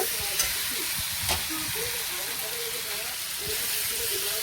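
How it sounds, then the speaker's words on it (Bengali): Vegetables frying in a pan with a steady broadband sizzle, near and fairly loud, with occasional scrape and stir noises and a faint voice in the background. "এবার সবজিটা ভালো করে ভাজা হয়ে গেছে"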